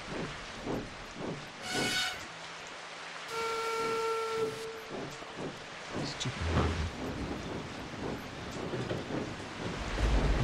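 A breakdown train hisses steam and sounds a steady whistle tone, with rhythmic rail clatter running through the whole stretch; fairly loud and close, no voices.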